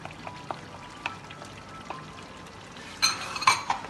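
Melted butter poured into a Lahori mutton karahi, a quiet sizzle with light ticks and spatters that build into a louder burst of sizzling and clinking near the end, close and without speech.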